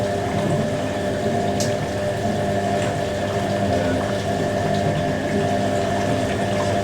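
The drum of a Hoover A3060 washing machine tumbles while filling with water, a steady loud hum and rushing water inflow with a constant tonal drone and occasional faint clunks, no voices.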